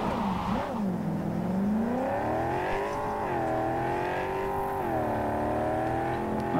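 Car engine in the video game Cyberpunk 2077 revving steadily with rising and falling pitch sweeps, loud and continuous throughout with no talking.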